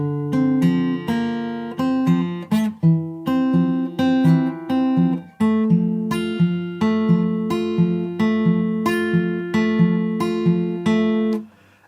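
A plucked acoustic guitar plays the repeating single-note verse riff of a song, clear and close, the line stepping slowly through its pattern before ringing out.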